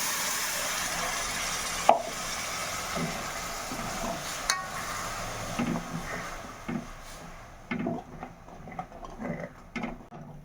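Vegetables are stirred with spinach puree in a pan for palak paneer, with scraping strokes, clinks and a soft sizzle, and the sound grows sparser toward the end.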